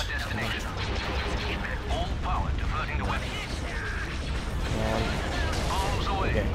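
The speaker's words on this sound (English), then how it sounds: "bombs away" Booming explosions and crashes from dropped bombs in Star Wars Republic at War, a continuous barrage of blasts and rumbling impacts with a voice talking over it.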